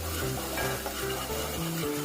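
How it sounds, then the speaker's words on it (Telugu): Onions sizzle steadily in hot oil, with a low hum and occasional stirring scrapes in the pan. "ఆయిల్లో వేయాలి. మంచిగా ఇది బ్రౌన్ కలర్ వచ్చేంత వరకు వేగాలి"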